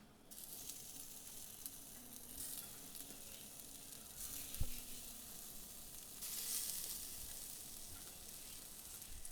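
Mango pieces sizzling on a preheated grill pan, a soft steady hiss with a light crackle partway through, fairly quiet and close, with no talk over it.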